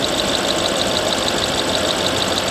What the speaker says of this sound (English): Maybe that's just direct injection that we're hearing.